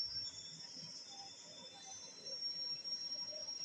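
A train passes in the Indian Bike Driving 3D video game, giving a steady, moderate rolling rumble with a thin high whine held throughout, with no talking.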